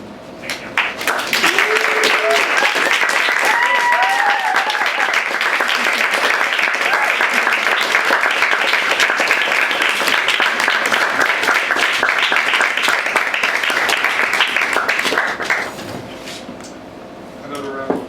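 Sustained audience applause following a poetry reading at the Grolier bookshop, a dense wash of many hands clapping that swells quickly, holds steady for about fifteen seconds, then fades, with some voices and whoops mixed in.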